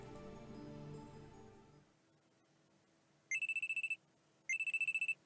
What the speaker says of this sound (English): I'm sleeping on the couch when a loud alarm rings in my ears.